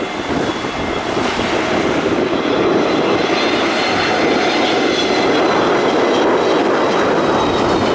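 A passenger jet approaching to land at Gibraltar on runway 27, heard from the beach as a loud, continuous engine roar with rushing wind noise across the whole stretch.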